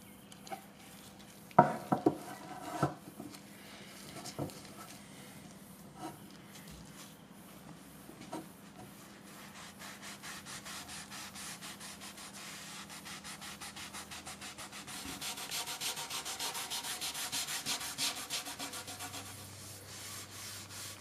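A rag spreads Osmo oil across a laminated macrocarpa wood top in soft, repetitive rubbing strokes. A few light knocks come early, and the rubbing grows steadier and louder toward the end.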